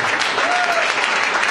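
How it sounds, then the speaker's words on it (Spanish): Church congregation applauding during a worship service, a brief dense burst of clapping that stays loud and even throughout, with a faint voice tone rising briefly beneath it. "Dale un aplauso al Señor Jesús"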